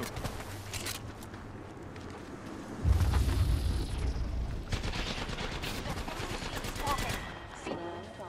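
Game gunfire in Apex Legends: a string of weapon shots and bursts, fairly loud and dense with a heavier boom partway through, while a voice talks over the action.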